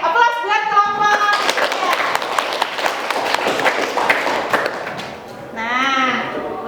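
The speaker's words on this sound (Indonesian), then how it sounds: "Oke, aplaus buat kelompok" A classroom of students applauds a student group, a dense burst of many hands clapping for several seconds, loud and close, with a voice talking just before and after.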